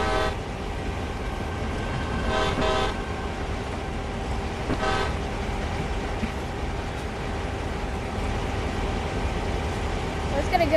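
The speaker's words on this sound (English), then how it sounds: "Train, let's blow our horn." Locomotive horn on a train in Train Sim World, Amtrak and CSX setting, sounding in sustained tonal blasts over constant engine and rail rumble, with brief bursts of louder noise.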